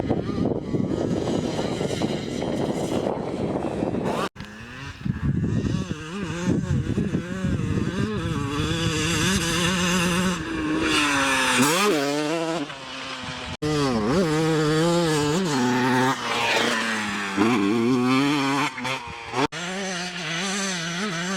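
A 1998 Honda CR125RW two-stroke motocross bike on a test ride, its high buzzing engine revving up and down through gear changes, close and loud throughout with brief cuts in the sound.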